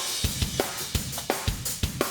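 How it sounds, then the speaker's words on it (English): EZdrummer drum kit played in Reaper under heavy fast-attack compression: kick and snare hits punch through while the hi-hats duck and pump after each hit, a quick steady groove with no voices. "the kick and the snare are taking precedence, and whenever those hit, it kind of sucks the energy away from the snares of the hi-hat"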